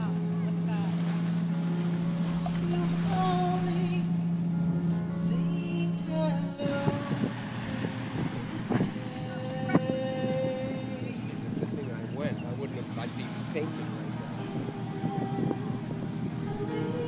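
Boat engines run on the water with a steady low drone, engine hum, and wind rushing across the microphone, continuous and close throughout.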